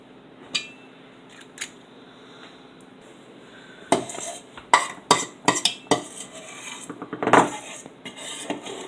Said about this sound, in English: I'm going to take this little cookie scoop, little one, and we're going to put a scoop of strawberry filling in each one there